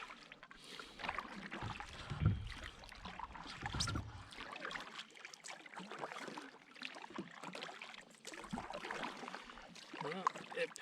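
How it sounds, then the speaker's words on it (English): Paddling a Native Slayer Propel Max 12.5 kayak by hand with the pedal drive lowered, giving steady water swishes and splashes of paddle strokes close by, with faint talk in the background. "Let's just see how it paddles with the drive down."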